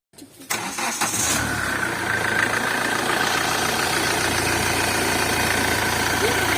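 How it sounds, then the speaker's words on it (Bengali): A car just back from an engine oil change cranks briefly, then catches and settles into a steady, close idle hum that runs on evenly. "গাড়ির ইঞ্জিনের আওয়াজটা শুনেই বুঝতে পারছেন বন্ধুরা যে গাড়িটা কতটা স্মুথ হয়ে গেছে"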